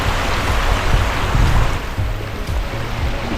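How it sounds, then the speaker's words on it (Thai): Forest stream flowing over rocks near a waterfall in Dong Luang district, Mukdahan, a steady broadband rush of water close by, with no voices. "มันจะเป็นแค่ ลำธาร ตรงนี้"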